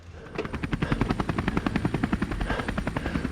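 Rapid rhythmic chopping of helicopter rotor blades at a mountain bike race drop-in, steady and fairly close, thumping continuously with no other sounds.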